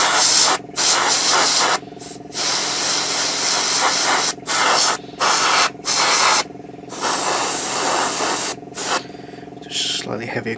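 An airbrush sprays paint onto a 1/35 scale Takom Chieftain Mk10 tank model in repeated hissing bursts separated by short pauses, close and loud.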